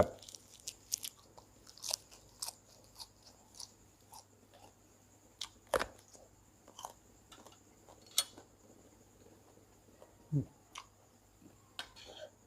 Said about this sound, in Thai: สิ่งนี้เจอเนี่ยคือหนัง หนังในี่กรุบกรุบมันหน่อยนึงครับ